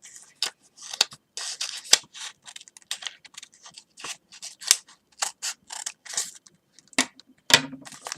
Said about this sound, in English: And now you're going to follow the cut.